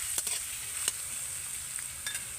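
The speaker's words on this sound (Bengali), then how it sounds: "একটু হালকা করে নেড়ে চেড়ে ভেজে নেব" Grated garlic and ginger fry in oil with a quiet, even hiss, punctuated by a few brief scraping stirs in the pan.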